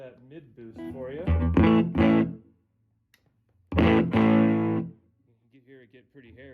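Distorted electric guitar chords through a Fender Princeton solid-state amp with mid boost ring out in two loud bursts separated by a pause, gritty and midrange-heavy, with a few quieter notes trailing at the end.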